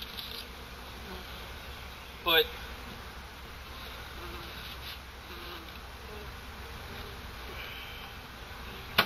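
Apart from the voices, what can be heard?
honey bees buzzing around beehive supers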